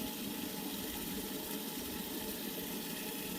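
Water runs steadily into containers for household use, a soft continuous splashing and hissing stream heard faintly and evenly throughout, with no voices.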